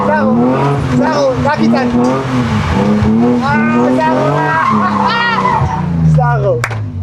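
A car drifting under throttle during a drift lesson, its engine revving and tires skidding beneath nearly continuous close conversation that dominates throughout.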